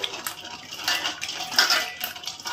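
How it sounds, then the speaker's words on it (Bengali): Keora fruit being rubbed and washed by hand in a vessel of water, a steady wet sloshing and scrubbing with light clinks against the container, close and continuous. "তো এইভাবে আমি ডলে ডলে কেওড়াটা আমি সুন্দর করে ধুয়ে নেব।"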